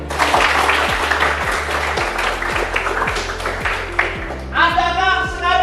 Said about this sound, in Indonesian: Ya semuanya tepuk tangan dulu.